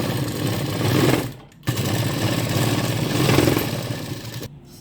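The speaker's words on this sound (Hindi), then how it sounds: "अब इसी तरीके से इसे डबल सिलाई जो लास्ट वाले इस वाले कॉर्नर पे भी हम लगाएंगे" A sewing machine double-stitches the corner of a blouse, its motor whirring steadily and close with a brief stop partway through before running on and halting at the end.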